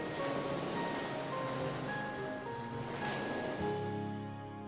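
Steady broadband wash of ocean waves rolling and breaking, loud and continuous throughout with no talk, a backdrop to an explanation of tsunamis.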